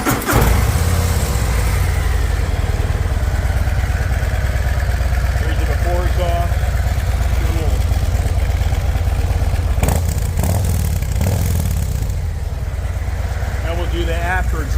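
Motorcycle with its stock exhaust idling steadily and close by, a continuous low, lumpy engine drone with some mechanical clatter, while people talk over it at intervals.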